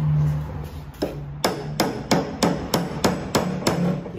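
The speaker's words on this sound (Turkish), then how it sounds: "Küçük bir çekiç yardımıyla." A small hammer taps a Suzuki car engine cover about ten times in a steady, even rhythm, sharp and close, with quiet background between strikes.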